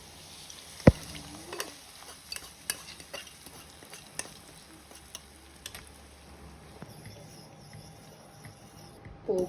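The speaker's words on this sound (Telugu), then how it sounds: "ఫ్రై అవుతున్న పోపుని డైరెక్ట్గా వేసుకొని" Hot tempering is stirred into mashed spinach dal (pala kura pappu), giving a faint, soft sizzle with quiet scraping and stirring sounds and a couple of sharp clinks from a spoon against the pot.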